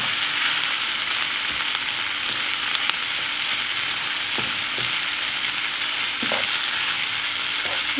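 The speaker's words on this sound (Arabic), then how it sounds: "غادي نضيف لي لاردون وغادي نقليهم مزيان مع البصله." Lardons frying with browning onions in a pan for tartiflette, a steady dense sizzle running throughout with a few faint clicks and scrapes of stirring.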